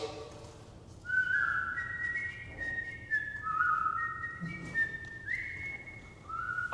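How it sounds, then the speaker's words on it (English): A person whistles a melodic, birdlike tune with sliding held notes and quick trills, moderately close and steady over a faint room hum, with no talking. "I can't be expected to wallow with you whistling like a songbird."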